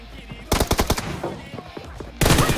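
Rapid bursts of automatic gunfire in the mobile battle-royale game PUBG Mobile, a loud volley of sharp shots followed by a pause and then another dense burst, with quieter game sounds between.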